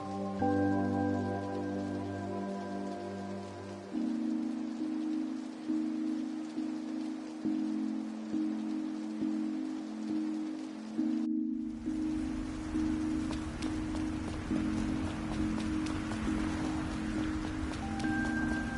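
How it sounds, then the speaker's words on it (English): Steady rain falls in a video game, a dense hiss of drops that runs throughout alongside sustained tonal game music, with a brief cut partway through before the rain continues. "Guess we're in for rain after all."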